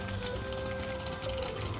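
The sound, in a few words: water poured into cooking pot for curry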